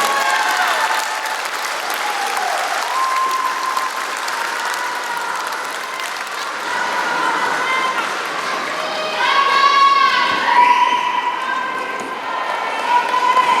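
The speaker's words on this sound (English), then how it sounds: "Please put your hands together and welcome them on stage." Sustained audience applause and crowd noise greet the contestants of the 2015 Miss Abraxas New Zealand beauty pageant as they come on stage, steady throughout and swelling near the end, with faint voices and whistles mixed in.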